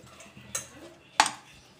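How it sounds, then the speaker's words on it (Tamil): A spoon scrapes and knocks against a pan while semolina (rava) kesari is stirred: two sharp metallic clinks about half a second apart over a quiet background. "நல்லா கிண்டி விட்டுட்டே இருங்க."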